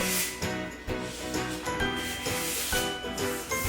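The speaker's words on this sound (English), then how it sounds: "doing a quick additional sand with very fine sandpaper, 400 grit in this case, just to take off that grain" Fine 400-grit sandpaper rubs across a wooden end-grain cutting board in steady back-and-forth strokes, a close, continuous raspy hiss that swells with each pass.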